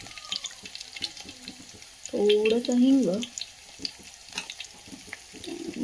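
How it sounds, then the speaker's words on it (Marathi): Cumin, garlic and curry leaves crackle and sputter in hot oil, a continuous close frying hiss with small pops, while someone speaks briefly over it and a short tonal scraping sound cuts in midway. "छान तडतडून देऊया."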